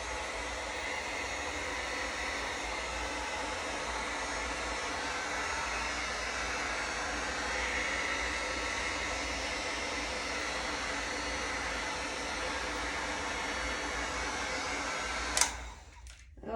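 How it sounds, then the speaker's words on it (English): A hair dryer blows steadily and close by, drying craft paint on a rustic blueprint project, a constant whooshing hum for about fifteen seconds before it clicks off near the end. "I'm going to get the dryer really quick, and we're going to dry."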